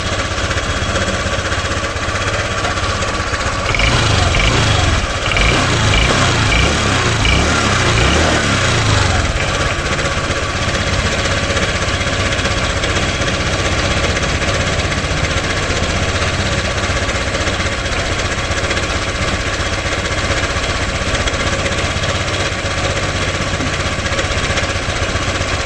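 Car engine idling under diagnosis for rough running, stalling on deceleration and error code 08, a steady rhythmic knocking chug that stays loud and even, with a busier rattling stretch near the start.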